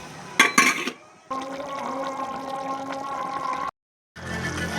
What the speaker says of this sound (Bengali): তারপর অল্প পরিমাণ পানি দিল।